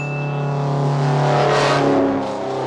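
A pickup truck from a horror film speeds past, its engine rising to a loud swell near the middle and then easing off, with no voices present.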